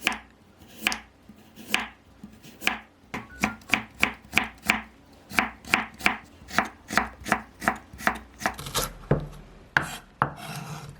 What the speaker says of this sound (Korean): 당근은 채 썰어 주세요.